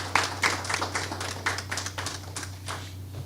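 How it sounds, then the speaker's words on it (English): Scattered clapping at a business incubator graduation ceremony, a handful of people applauding with irregular separate claps over a low steady hum, tapering off toward the end. "please join me in giving our Greenpreneur alumni a big round of applause for their achievement"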